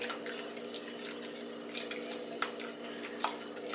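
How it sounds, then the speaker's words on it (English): Eggnog mixture whisked by hand in a bowl, a fast, continuous scraping and clinking of the whisk against the sides, close and fairly loud with no voices. "So I'm going to do it in 4 continuous streams while whisking left-handed."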